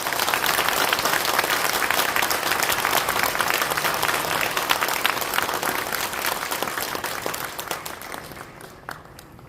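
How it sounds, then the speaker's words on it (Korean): Applause from the audience at a church denomination's general assembly, dense sustained clapping from a large crowd that carries on steadily and fades out toward the end. "여러분 인사할때 박수해 주시면 감사하겠습니다."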